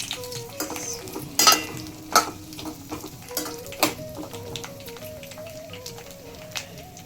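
Drumstick pieces frying in hot oil for pickle, a low steady sizzle under sharp clinks and scrapes of a utensil stirring the pan, with a faint tonal hum running through the background.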